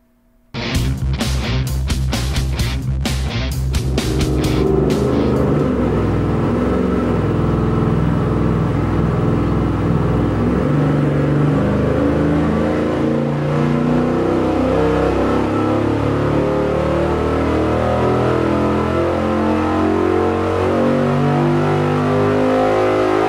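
V8 engine with an Edelbrock Performer RPM intake manifold on a dyno, starting with a few sharp blips then holding a loud, sustained wide-open pull that climbs steadily for over twenty seconds, close and alone.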